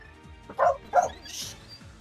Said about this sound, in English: I don't know if you guys have been able to hear my dogs barking